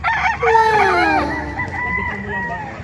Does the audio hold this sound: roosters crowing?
yes